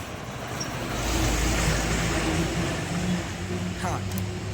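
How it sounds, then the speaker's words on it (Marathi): A vehicle approaches on a road, its broad engine and tyre rumble swelling to a peak and then easing off as it comes near and passes. Roadside ambience surrounds it. "एक सेकंड, गाडी येते."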